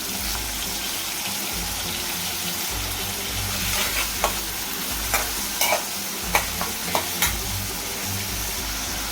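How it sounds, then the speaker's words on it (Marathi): Finely chopped onion sautés in a pan for dal khichdi, after garlic and curry leaves, with a steady broadband sizzle throughout and several sharp louder crackles and stirring clinks toward the end; no talk. "त्यानंतर बारीक चिरलेला कांदा परतून घेते"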